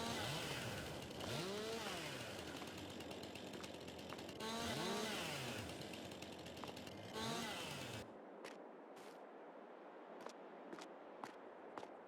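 A chainsaw trims trees in the video game Farming Simulator 22, its engine revving loudly in three long rising and falling bursts over about eight seconds before cutting out, leaving faint clicks and ticks.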